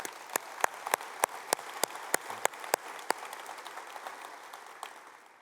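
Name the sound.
audience applause at a keynote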